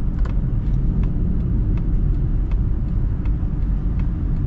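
Lifted Mazda CX-30 crossover driving in sport mode, a steady low engine and road rumble from inside the cabin with continuous tire and drivetrain noise and no talking.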